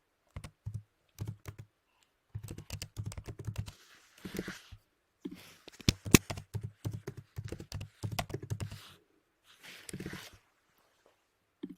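A password being typed on a computer keyboard in quick, uneven bursts of close, crisp key clicks separated by short pauses.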